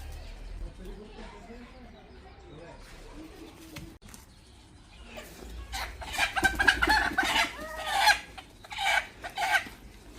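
Chickens cluck and squawk at home while they are slaughtered one after another, with soft clucking early on and then louder, agitated squawks bursting out repeatedly in the second half, with some low voices in the background.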